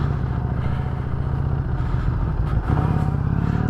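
A motorcycle engine runs steadily at close range, a learner's bike on a riding lesson, with a brief dip and catch near the end as the clutch is pulled and a gear is changed, no talk.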